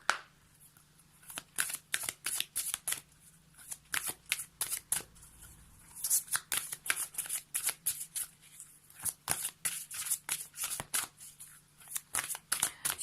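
An oracle card deck, the Whispers of Ganesh, being shuffled by hand in a long series of quick riffling bursts, close and crisp, with brief gaps between shuffles and no speech.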